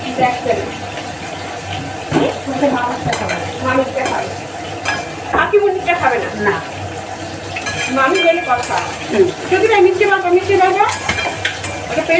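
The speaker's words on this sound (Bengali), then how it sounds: "এবার আমি নেড়ে ব্যালেন্স করে দিই সব কিছু একসাথে" Onion, tomato and sugar fry in a pan for butter chicken while a utensil stirs and scrapes through the mix, making a loud, uneven sizzle with clattering metal and bursts of voices over it.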